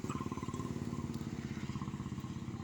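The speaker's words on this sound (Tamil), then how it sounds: "ராயல் என்ஃபீல்டில் போகிறாங்க" A Royal Enfield motorcycle engine thumps in a steady, rapid rhythmic beat, fairly faint, as the bike passes by in Munnar, Kerala.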